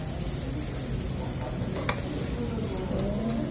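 Meat sizzles steadily while grilling on a Thai moo kata pan at a Korean buffet restaurant, a dense, continuous frying hiss with a brief clink partway through.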